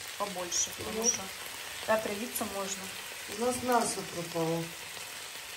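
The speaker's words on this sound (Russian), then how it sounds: "грибы всегда нужно поджаривать побольше" Mushrooms fry in a pan with a steady faint sizzle that runs under a voice as she talks intermittently.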